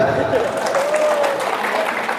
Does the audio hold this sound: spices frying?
no